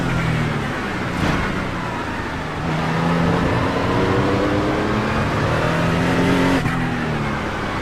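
A GT3 race car engine held on throttle in the iRacing sim during a wet race, a loud steady drone with rising harmonic pitch sweeps and brief lifts, no talking.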